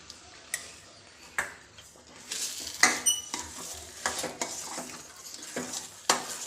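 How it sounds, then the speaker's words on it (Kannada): Halwa with ghee is stirred in a pan with a soft sizzle under repeated scraping and clinking strokes of a spoon against metal, irregular and close. "ತುಪ್ಪ ಹಾಕಿಬಿಟ್ಟು ಚೆನ್ನಾಗಿ ಮಿಕ್ಸ್ ಮಾಡ್ತಾಯಿರಿ"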